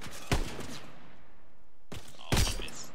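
Two Kar98k bolt-action rifle shots in Call of Duty WW2 team deathmatch, each a sharp loud crack with a short echoing tail, spaced about two seconds apart over quiet background ambience.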